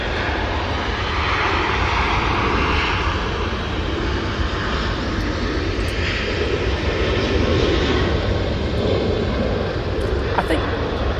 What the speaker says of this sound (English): let's get this KLM going out